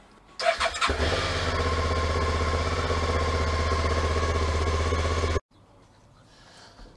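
A Suzuki V-Strom 650 XT motorcycle fires up close by and settles into a steady, loud warm-up idle for several seconds before the engine is cut off abruptly, leaving quiet background.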